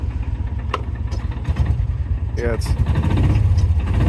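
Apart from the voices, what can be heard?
utility vehicle engine idling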